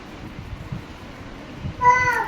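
A close cat gives a single short meow at the end, after quiet rustling.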